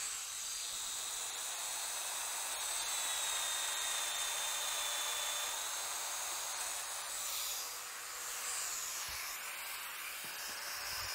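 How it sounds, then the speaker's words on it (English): A Festool router with a 10 mm cutter routes holes in a narrow wood slat, giving a steady, loud high-pitched whine with a faint hiss that holds throughout, with no talk. "I can start routing."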